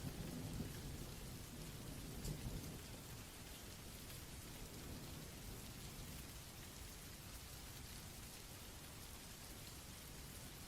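A soft, continuous rain ambience hisses steadily, with a low thunder rumble near the start that fades into an even wash of falling rain.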